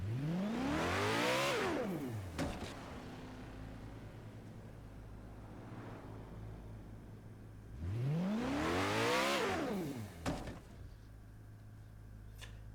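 Koenigsegg One:1 hypercar engine in Forza Horizon 3, modded to weigh 5 kg with 5 hp, revving up in two loud sweeping rises that climb and then fall away, with a quieter idle drone between them.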